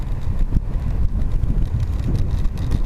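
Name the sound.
strong headwind noise while riding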